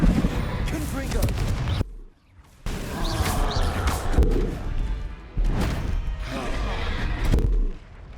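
Confringo spell blasts in Hogwarts Legacy, loud booming explosive impacts and crashes in repeated bursts, dense and close, with brief drops between them.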